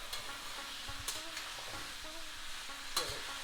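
Aloo gobi sabzi of potato and cauliflower being stirred in a pan: soft scraping strokes and a few sharp utensil knocks over a quiet, low sizzle, close and fairly faint, with no talking.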